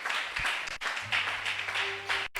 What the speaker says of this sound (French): On acclame le Seigneur pour dire merci à Dieu.